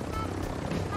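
A helicopter in a video game gives a steady, dense rotor and engine drone that fills the whole second, with no talking.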